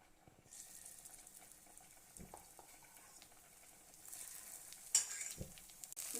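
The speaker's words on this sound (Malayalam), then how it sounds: "ഇതുപോലെ എല്ലാം നമുക്ക് എണ്ണയ്ക്കകത്തൊന്ന് ഇട്ട് കൊടുക്കാം." Ivy gourd bajji fritters dropped into hot oil, giving a steady soft sizzle with stirring and faint clinks throughout, a brief louder crackle near the end, with no talking.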